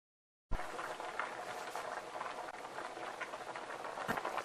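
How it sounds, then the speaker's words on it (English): Potatoes boil in a pot of water, a steady close bubbling and churning that carries on without a break, with a slightly louder pop near the end. "I see the potatoes are starting to boil"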